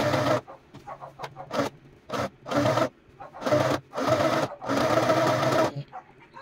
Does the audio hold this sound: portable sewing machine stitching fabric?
yes